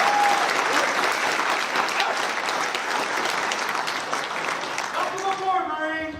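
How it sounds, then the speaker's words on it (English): Round of applause from guests at a Marine Corps birthday ball, a dense, loud burst of clapping lasting about five seconds before a speaker's voice returns. "Give her another round of applause."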